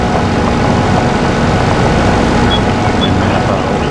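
A leased farm tractor engine running steadily on an abandoned farm, a dense continuous rumbling drone with broad noise, close and constant, with no clear changes in pitch.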